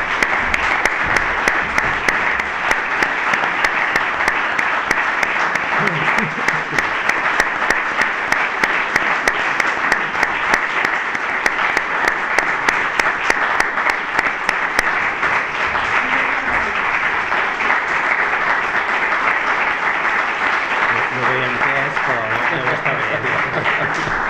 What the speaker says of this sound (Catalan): un aplaudiment per l'Anna.